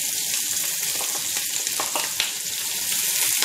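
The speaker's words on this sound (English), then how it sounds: "Fry onions nicely till they are nice and translucent" Onions fry in oil in a pan alongside cashew nuts, a loud, dense, continuous sizzle close up with faint stirring, no voices.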